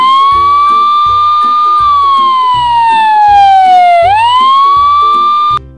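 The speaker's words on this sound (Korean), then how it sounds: "소방차 출동." A wailing fire engine siren rises and falls in long sweeping tones over a regular pulsing horn or engine beat, loud and close throughout, cutting off abruptly at the end.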